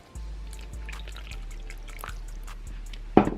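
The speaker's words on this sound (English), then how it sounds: "I'm gonna go ahead and pour its water in right now" Water is poured into the enclosure of a Brachypelma vagans, the Mexican Red Rum tarantula, as a thin, quiet trickle with a few faint drips over a low steady hum, ending in one louder splash.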